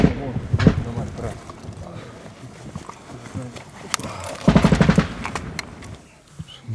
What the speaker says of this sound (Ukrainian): Що, стріляють по нам з пулеметів, з автоматів.